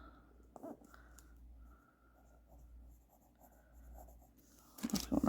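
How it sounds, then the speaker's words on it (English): A mechanical pencil traces a dog's outline on paper for a pumpkin-carving portrait, giving soft continuous scratching strokes in short runs, quiet and close, ending with a louder rustle. "So the first thing I'm gonna do is just trace his outline. This is just my mechanical pencil."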